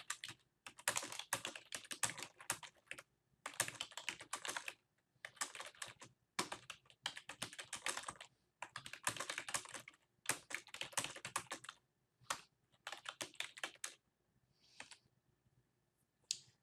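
Rapid clicking of keys on a computer keyboard, typed in quick bursts separated by short pauses, close and fairly quiet.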